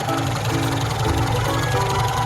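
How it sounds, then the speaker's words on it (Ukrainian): Slavuta car from 2006 in good condition idling under an open hood, a steady low engine hum with a faint regular ticking running unbroken and close for the whole stretch. "Ось така підкапоточка, моторчик робить як часик."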